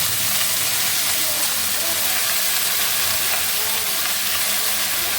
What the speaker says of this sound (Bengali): তো শাক ভাজিটা দিয়ে দিচ্ছি।